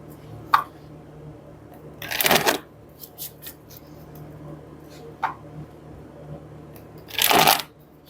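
Tarot cards being shuffled in a few distinct bursts, close and fairly loud, with quieter taps and handling noises in between; no talking.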